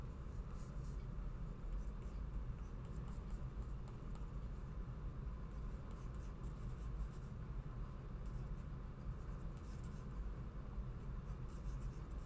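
Stylus scratching steadily on a digital drawing tablet while sketching hair, a faint continuous scritchy rasp of short strokes over low background hum.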